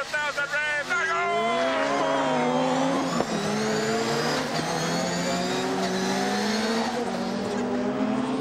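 A Land Rover rallycross race car with about 600 horsepower is held at 7,000 revs for a start at Brands Hatch, giving a loud, close engine whine that climbs and sustains with rising harmonics, while someone talks over it.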